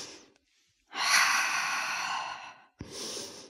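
During a yoga leg stretch, a person takes slow, deep breaths: a soft trailing exhale, a brief pause, then a long, full breath lasting over a second and a half, followed by another shorter breath, close and clear.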